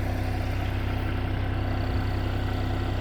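A Kubota L3560 tractor idles on a small farm, its engine holding a steady, rhythmic low throb and hum close by without any talking.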